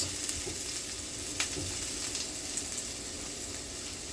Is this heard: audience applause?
no